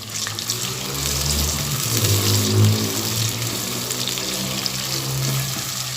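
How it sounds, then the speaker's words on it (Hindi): Finely chopped onion frying in oil with whole cumin seeds in a pan for a sour potato and eggplant dish, giving a steady, close sizzle with a rush like running water, with no talking. "और एक बड़े साइज़ की प्याज थी जिसको बारीक काट लिया मैंने, वो इसमें डाल दूंगी।"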